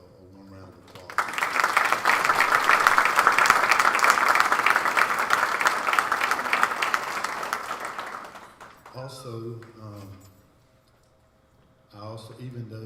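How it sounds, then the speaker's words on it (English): A school board meeting audience breaks into warm, sustained applause that swells and then tapers off after several seconds, followed by a person speaking. "So I'd like us all to give her a warm round of applause."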